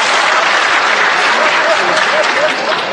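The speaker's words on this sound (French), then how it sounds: "cette constatation applaudie comme vous l'entendez" Sustained audience applause at a university lecture in Louvain, a dense, even patter of many hands clapping at close range, steady and loud for the whole stretch with faint voices mixed in.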